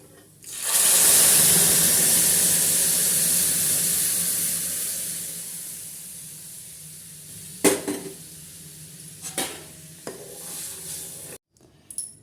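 A tempering hits hot oil and erupts into a loud, hissing sizzle that gradually fades, followed by a few sharp clinks of a utensil against a pan, while making moong dal rasam.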